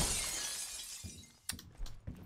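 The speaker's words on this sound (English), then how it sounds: "I'm breaking the glass through this" Glass window being broken in a video game: a fading rushing noise gives way to several sharp, separate shattering cracks and tinkles, each short and fairly close, with no voices.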